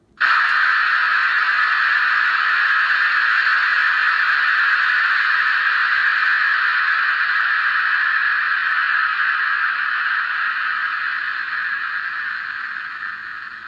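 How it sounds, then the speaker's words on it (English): Safety valve lifting on a Hornby King George V model locomotive: a loud, continuous hiss of escaping steam that holds steady for many seconds before slowly fading toward the end. "function 5 is safety valve lifting."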